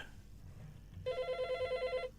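A telephone rings with a rapid trilling electronic bell, one clear burst of about a second following quiet room noise and faint murmuring.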